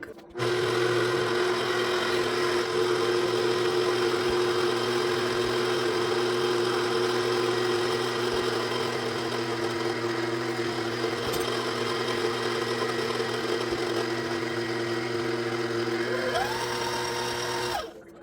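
A stand mixer with a paddle runs on low speed through cherry Bundt cake batter, giving a steady, even motor drone with a soft churning hum that holds unbroken for nearly the whole stretch, close and alone, then stops.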